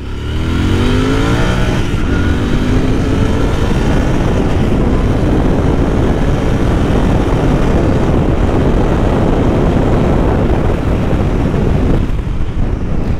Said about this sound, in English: this stretch used to be a little empty, so I will try to rev it